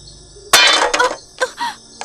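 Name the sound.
heavy object falling on a roof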